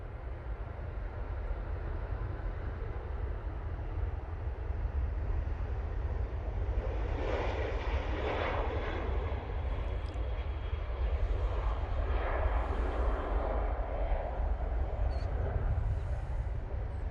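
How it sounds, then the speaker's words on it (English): A Ryanair airliner at Manchester Airport gives a distant, steady low engine rumble with gentle swells in a hissy upper wash, fairly faint, no voices. "Here's the Ryanair."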